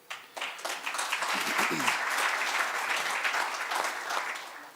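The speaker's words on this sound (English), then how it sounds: "I appreciate an audience that knows instinctively when to applaud" Sustained applause from an audience at a budget dialogue breakfast event, many hands clapping continuously and fairly loud, swelling quickly and holding steady, with some voices mixed in.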